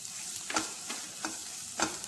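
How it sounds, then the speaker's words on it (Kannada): Spices and pepper powder fry with mushrooms in a pan for a pepper gravy, giving a steady close sizzle broken by several distinct scraping stirs of a spoon at an uneven pace. "ಪೆಪ್ಪರ್ ಪುಡಿಯನ್ನು ಹಾಕಿ ಚೆನ್ನಾಗಿ ಹುರ್ಕೊಳ್ತಾ ಇದ್ದೀನಿ"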